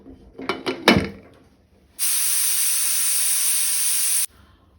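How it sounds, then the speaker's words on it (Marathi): A pressure cooker holding pea and paneer pulao lets out a loud, steady jet of steam for about two seconds and then stops abruptly, following a few soft clatters. "कुकराची हांवें 1 शिटी काडून घेतली"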